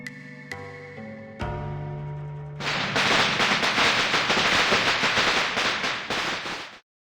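Firecrackers burst in Reverse: 1999 at a spring festival meant to drive away misfortune: a few sharp cracks over a tonal musical backdrop, then a loud dense stretch of rapid crackling explosions lasting several seconds before cutting off.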